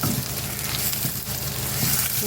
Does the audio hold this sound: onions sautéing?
yes